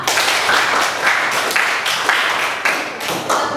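An audience claps for a student in a classroom, a dense, even round of applause that runs steadily throughout with small swells in intensity and no voices over it.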